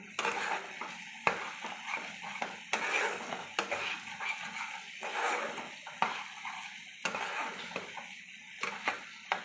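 Chicken with spices and green chillies is stir-fried in a pan, heard as repeated scraping spatula strokes over a soft, low sizzle in an uneven rhythm, fairly quiet and close.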